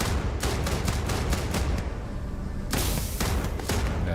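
Rapid bursts of gunfire in the space game Starfield crack out in quick volleys, loud and dense, with a brief lull in the middle before another string of shots.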